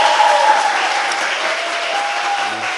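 A studio audience at a Korean talk show breaks into dense, sustained applause, a loud and even wash of many hands that holds steady throughout, with a faint murmur underneath.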